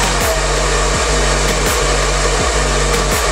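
A Torlen professional hair dryer runs steadily and loudly up close, a constant whooshing motor drone with a faint repeating pulse, no talk.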